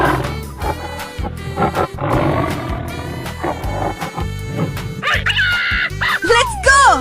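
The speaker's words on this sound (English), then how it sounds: "tiger," Cartoon tiger roar: a long, loud growling roar over busy background music, followed by higher squeals and effects near the end.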